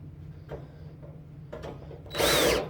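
Power drill driving screws back into the sheet-metal side panel of a Kenmore clothes dryer: two short, faint whirs over a low hum, then a louder, strained buzzing burst at the end.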